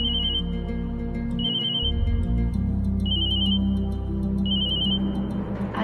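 A phone ringtone chirps in four short repeated bursts over a steady background of music or hum.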